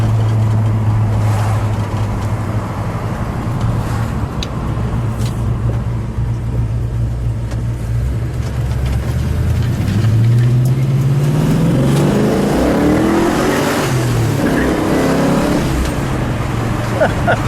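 A 1969 Ford Mustang Boss 302 in Calypso Coral Orange, its V8 rumbling at a low idle and then climbing into a loud rising rev near the end, with a hint of voices in the background.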